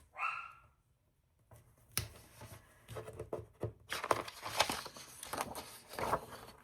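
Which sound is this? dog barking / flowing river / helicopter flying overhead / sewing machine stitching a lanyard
dog barking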